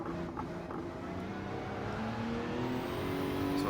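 A car engine in the Gran Turismo 7 racing game revs steadily and climbs in pitch through a gear, a continuous droning whine heard alone at moderate loudness.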